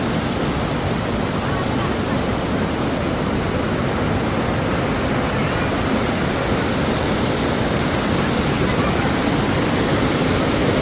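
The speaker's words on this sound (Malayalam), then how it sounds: "വസിഷ്ഠ മന്ദിരത്തിൻ്റെ അടുത്തുകൂടെ ഒഴുകുന്ന ആ ഒരു വെള്ളച്ചാട്ടമാണ്" Steady, loud broadband rush of a waterfall flowing beside Vasishtha temple in Guwahati, continuous and unbroken, with no voices.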